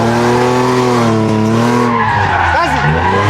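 A car drifts under full throttle on dry pavement, its engine roaring loudly with rising and falling harmonics while tires squeal and skid continuously, close by.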